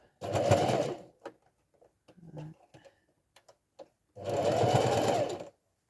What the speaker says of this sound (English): we're going to sew down a slightly more generous 1/4 inch